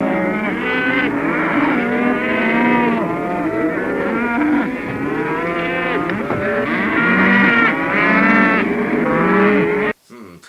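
Several cows moo loudly and repeatedly, overlapping low drawn-out calls close by, ending with a sudden cut.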